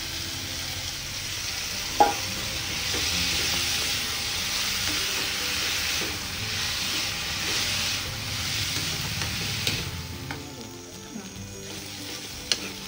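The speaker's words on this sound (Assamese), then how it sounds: "আমি অলৰেডি কাটি থোৱা পানীত থোৱা কলডিলখিনি ভালকৈ ভাজি ল'ম" Chopped banana flower, soaked in water beforehand, frying and being stirred in a pan: a continuous sizzle with scraping and clicking from the spatula, one sharp knock near the start and a few later.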